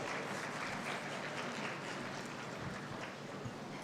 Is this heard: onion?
no